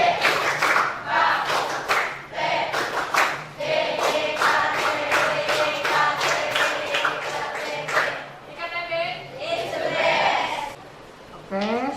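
A class of schoolchildren chants a cheer together in a classroom, with rhythmic group clapping punctuating the loud, energetic voices throughout.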